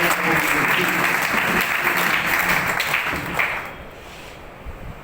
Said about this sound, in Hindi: जोरदार ताली चाहता हूं